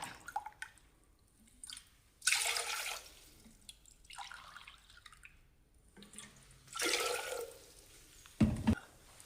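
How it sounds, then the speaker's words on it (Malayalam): Water is poured from a glass into a pot, three measures for Irani tea, as three separate splashing pours a few seconds apart, close and fairly loud, with quiet drips and handling noises between them and no speech. "ഈ ഗ്ലാസ്സിന് മൂന്ന് ഗ്ലാസ് വെള്ളമാണ് ഞാൻ എടുക്കുന്നത്"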